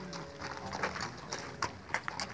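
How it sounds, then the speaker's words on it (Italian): A horse walks with its hooves clip-clopping in a quick, uneven run of faint strikes against quiet background noise. "il cavallo del Sivinovo, Turo."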